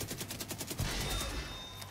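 Gunfire in The Division 2 video game rattles out as a rapid burst of automatic shots, then fades into a trailing echo, loud and close with no talk.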